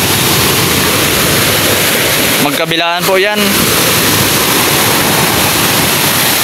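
River waves crashing against a sandbag barrier, heard as a loud, continuous roar of rushing, churning water. Someone speaks briefly over the noise midway through.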